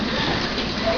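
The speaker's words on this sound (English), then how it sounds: "Hail!" Hail falls in a dense, steady, close clatter like a heavy downpour on hard surfaces, continuous for the whole second.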